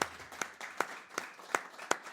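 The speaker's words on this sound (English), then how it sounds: "Very kind people you are to clap for such things." A small audience applauds a singer-songwriter and storyteller, with a rhythmic, sparse clapping of distinct hand claps at a steady pace, fairly close and moderately loud, with no talking over it.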